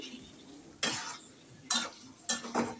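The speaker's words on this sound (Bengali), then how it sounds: "আলুটা টমেটোর সাথে সব মশলার সাথে ভালো করে নেড়ে চেড়ে মিশিয়ে নেব আমি" A spoon scrapes and knocks in a pan while cut potatoes are stirred with tomato and spices, three short quiet bursts separated by pauses over a faint low hum.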